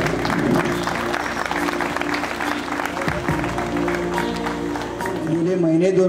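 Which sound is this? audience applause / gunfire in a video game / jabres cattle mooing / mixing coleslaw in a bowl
audience applause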